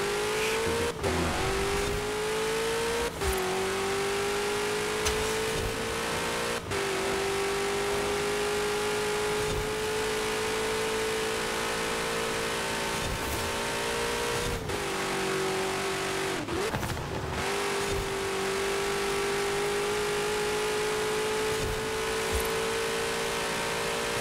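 A race car engine in Forza Horizon 4 revs hard through a custom Le Mans track in a Ford vs. Ferrari contest, holding a loud sustained whine with several sharp shifts and drops in pitch.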